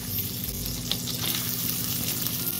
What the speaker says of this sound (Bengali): হালকা করে 2 মিনিট আমি ভেজে নেব।